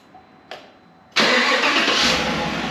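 A stock 2018 GMC Sierra 5.3-liter engine starts up: a short starter crank, a brief pause, then the engine catches with a loud roar and settles into a steady idle close by.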